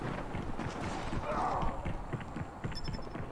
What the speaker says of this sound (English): Can you hear footsteps?